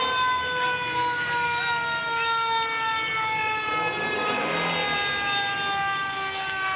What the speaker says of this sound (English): hearing a siren in the background